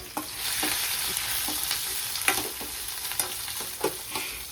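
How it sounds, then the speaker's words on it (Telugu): Chopped onions sizzle steadily in a hot pan while being fried for a home-cooked mushroom curry, with light scraping and clicking from stirring over a continuous close crackle and no talk. "ఉల్లిపాయ అయితే ఫ్రై చేస్తున్నానండి"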